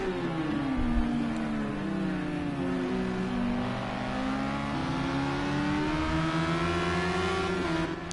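Radical SR3 race cars at Hockenheim accelerate through turn 1, their engines rising in a continuous high-pitched revving wail with gear changes, loud and steady throughout with no talk.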